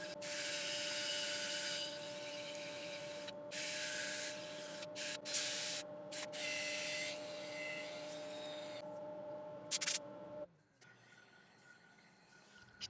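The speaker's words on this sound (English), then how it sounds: "So my usual method of sanding, right angle drill." A right-angle drill sands a yew wood bowl with a steady whirring hum and scratchy abrasive hiss in several passes, briefly pausing between strokes before the motor winds down near the end.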